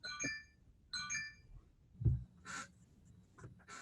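Two bright, short electronic notification chimes from a phone, close and clear, followed by some thumps and rustling in a quiet room.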